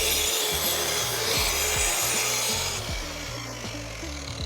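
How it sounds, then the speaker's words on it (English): A WEN track saw rips through 1/4-inch plywood, a steady loud cutting roar with rhythmic rasping strokes throughout, easing slightly in the final second; no talk. "this should be a perfect test for the ripping capacity of this saw"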